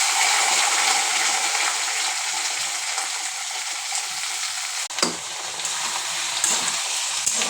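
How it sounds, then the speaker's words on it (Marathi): Chopped onion, tomato, cabbage and cauliflower fry in a pan for masala fried rice, a loud continuous sizzle close up with occasional stirring scrapes and knocks. "आता इथे आपण याला फ्राय करून घेऊ."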